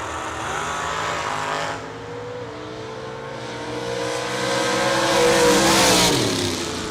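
Drag racing cars, among them a Camaro, at Muncie Dragway, their engines roaring loudly and continuously, with pitch climbing through revs as they launch and pull away, building to a louder surge near the end.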